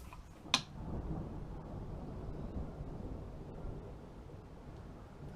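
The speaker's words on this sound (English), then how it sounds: "I love it. I love storms." Thunder from a storm rumbles low and distant in a long continuous roll, with a brief sharp crack near the start over a faint steady background.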